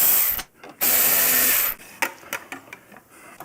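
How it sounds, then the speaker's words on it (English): A Torx 27 driver backing out two bolts holding a vent on a fat tire electric bike: two long bursts of dense, close whirring broken by a short pause, then scattered light clicks and taps of loosened hardware. "Now we're going to take a Torx 27 and remove these 2 bolts right here to get this vent off."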